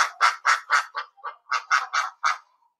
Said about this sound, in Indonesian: Bebek, oh gitu suaranya